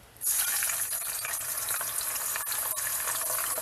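Chicken skin frying in very hot oil, a steady loud sizzle that starts abruptly as the pieces go in and continues evenly with small crackles.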